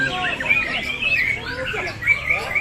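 Bright, continuous song of a magpie robin at a bird-singing contest, with rapid whistled trills and chirps, loud and close, over a busy background murmur of a crowd.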